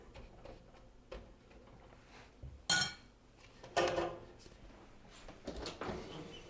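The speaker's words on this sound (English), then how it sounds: "I'm going to put this in the oven." A granola tray slides into a hot home oven, bringing a few sharp metallic clanks and clinks of the pan against the rack. The clatter comes close and moderately loud, with no talking.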